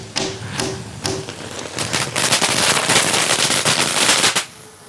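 Fireworks go off near a parrot: a few sharp cracks with a faint tone at first, then a dense, loud crackling barrage for a couple of seconds before it stops abruptly.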